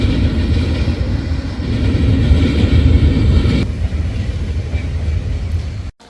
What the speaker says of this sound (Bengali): দেখতে পাচ্ছেন মালবাহী গাড়ি যাইতেছে।